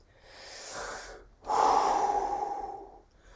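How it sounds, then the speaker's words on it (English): A long deep breath: a soft, airy inhale followed after a brief pause by a louder, fuller exhale that lasts about two seconds, close to the microphone with no talking. "Just take a big deep breath."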